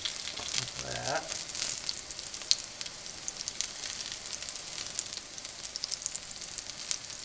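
Potato cakes frying in hot oil in a pan give a steady, close crackling sizzle with scattered sharp pops throughout.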